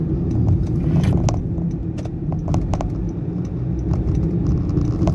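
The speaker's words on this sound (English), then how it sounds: "this rumble strip, the suspension actually absorb quite alright, although you can feel the bumpiness" A 2019 Honda Jazz drives over a rumble strip, heard from inside the cabin as a steady low road rumble and engine drone with scattered small rattles and ticks on top.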